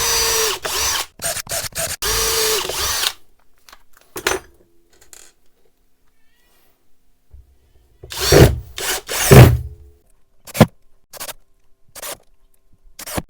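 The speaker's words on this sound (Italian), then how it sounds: "dopodiché avvitare delle viti." A Parkside 12V cordless drill driver drilling pilot holes and driving screws, loud close whirring bursts broken by pauses and a few short trigger pulses at the end.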